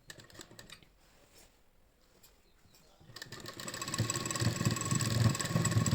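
An electric sewing machine stitches an old saree into a kurti, starting after a quiet opening and then running steadily and loudly to the end, with a dense mechanical whir.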